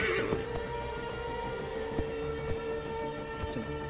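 A horse in Assassin's Creed Origins whinnies briefly near the start, followed by soft hoof clip-clops over a steady background hum and ambient tones.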